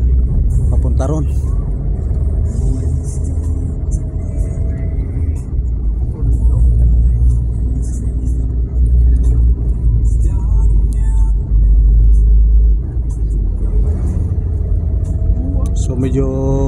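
A car travels along a highway toward Albay in light Saturday traffic, with a loud, steady low engine and road rumble heard from inside the vehicle as people talk over it.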